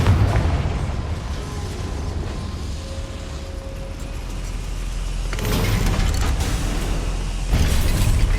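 The Confringo explosion spell going off in a goblin mine in Hogwarts Legacy, a steady rumbling mechanical roar with a second heavier burst partway through, and no talking.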